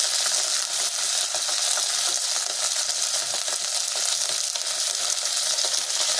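Okra fries in a pan with a loud, continuous bright sizzle and crackle, close and steady throughout with no pauses, and no one speaking.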